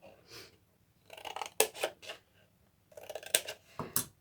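Scissors snipping through cardstock while making a gift box: a few separate close, crisp cutting bursts with short pauses between them.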